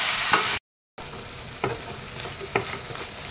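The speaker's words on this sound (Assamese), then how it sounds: "মাংসখিনি এফালৰ পৰা লৰাই গ'লোঁ।" Duck meat coated in ground spices such as cumin and chilli powder being stirred in a pan, a soft steady sizzle with a few scraping spoon strokes, briefly cut by a silent gap.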